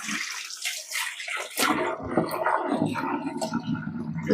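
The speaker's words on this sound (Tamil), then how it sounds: "பச்சை தண்ணியில் நல்லா ஃபோர் ஆர் ஃபைவ் டைம்ஸ் வந்து கழுவி சுத்தம் பண்ணி எடுத்து வச்சுக்கலாம்" Water sloshes and splashes in a bowl as goat intestines are rinsed by hand, with wet squelching and gurgling, close and fairly quiet.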